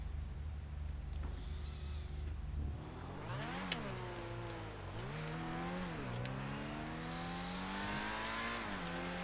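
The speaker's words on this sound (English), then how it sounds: "the raw noise of the engine is incredible" Engine of a brand-new DLC car in a racing video game, revving and climbing through gears in repeated surging sweeps after a short idle, loud and close with some tire noise, no talking.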